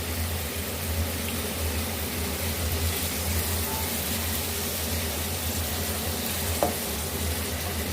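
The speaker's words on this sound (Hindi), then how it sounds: "दो से 3 मिनट इसको मसालों के साथ हम अच्छे से भून लेते हैं।" Chicken sizzles steadily with spices in a hot pan, a dense, even frying hiss that continues throughout with no talking.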